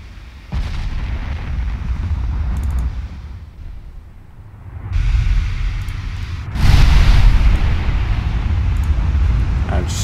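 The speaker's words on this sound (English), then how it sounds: "they spotted me and were returning fire now. Definitely using big guns as well" Heavy naval gunfire from enemy warships in the Ultimate Admiral Dreadnoughts naval game: loud, deep booming salvos with rumbling roll-off that come in repeated bursts and grow heavier toward the end, with some faint talk beneath.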